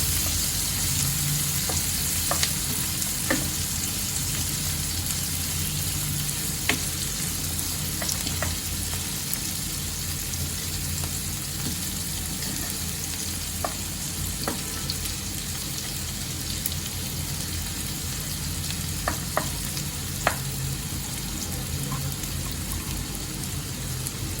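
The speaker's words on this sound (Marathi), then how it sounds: "कांद्याला चांगलं गळसपर्यंत मी तेलामध्ये परतून घेते" Onions sauté in hot oil for a Khandeshi bharit, a steady close sizzle and crackle with occasional sharp pops and stirring scrapes, no talking.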